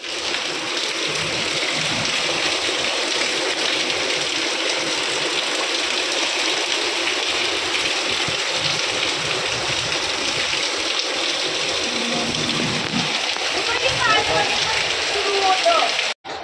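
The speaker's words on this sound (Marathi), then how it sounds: "आणि पाऊस तर चालूच आहे रात्रभर" Heavy rain falls all night in a steady, unbroken wash that drums on surfaces nearby, with faint background activity toward the end.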